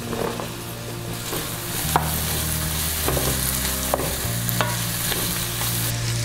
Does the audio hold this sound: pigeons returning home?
no